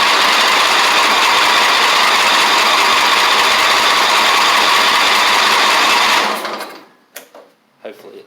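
A Craftsman ZTS7500 zero-turn mower engine, just fitted with a replacement carburetor, roars loud and steady up close for about six seconds, then cuts off, leaving a few faint clicks.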